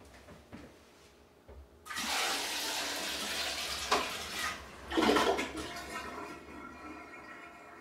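Water dumped from a bucket into a toilet bowl with no running water, about 1.5 gallons, starts as a sudden loud rushing gush, swirls and surges with a second burst, then drains away with gurgling; no talking.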